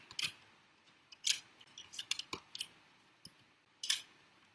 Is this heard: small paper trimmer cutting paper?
yes